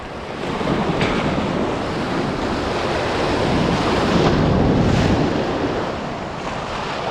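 Ocean waves and surf roll in loud and steady during topwater fishing from a boat, with wind buffeting the microphone and the broadband rush swelling and easing throughout without a break.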